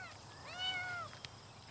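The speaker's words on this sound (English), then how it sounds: "Is that a cat in there?" A cat gives a single rising-then-falling meow, fairly faint and slightly distant, followed by a short soft click.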